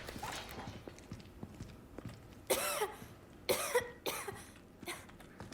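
A woman coughs in several harsh, close bursts spread over a few seconds, with softer breaths and movement in between.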